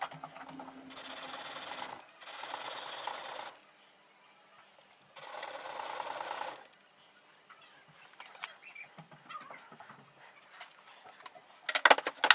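An English-style paring knife is rubbed on an 800 grit sharpening stone in several rhythmic scraping bursts of a second or two each, separated by quiet pauses, with faint small handling noises near the end.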